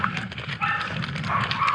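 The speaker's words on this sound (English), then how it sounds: "We've heard these dogs barking for about 20 minutes now." Dogs bark somewhere along a walking route in a long-distance hike, heard as faint to moderate distant barks within outdoor ambience over a short stretch, with no voices.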